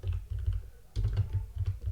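Rapid, close keystrokes on a computer keyboard while writing Rust code, a steady run of soft clicks with a brief pause near the middle before the tapping resumes.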